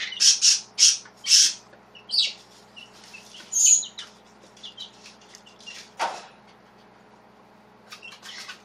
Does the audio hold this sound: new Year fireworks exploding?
no